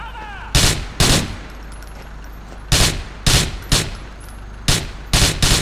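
Gunfire in the video game Grand Theft Auto IV: loud, sharp shots fired in bursts of two or three with short pauses between, as a full magazine is emptied.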